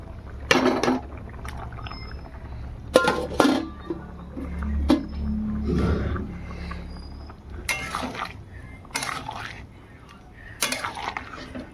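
Water poured into a cooking pot in a home kitchen, with sharp clinks of a metal utensil against the pot and a soft pouring splash, close and fairly loud, a few knocks spread across the stretch.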